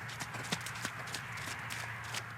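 A mare, a former racehorse that went into training but never raced, now being schooled as a riding horse. Her hooves clip-clop at a steady walking rhythm, close by, against a constant low background hum.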